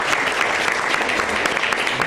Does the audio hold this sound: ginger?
no